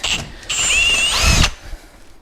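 A power drill fitted with new bits bores a hole through a metal plate in a garage, a brief whining bite of about a second that rises in pitch, then stops abruptly, followed by faint clatter nearby.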